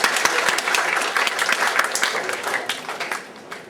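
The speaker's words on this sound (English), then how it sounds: "That's definitely worth a clap." High school students clap together in a classroom or assembly, a brisk scattered burst of hands that tapers off over a few seconds, with some faint voices mixed in.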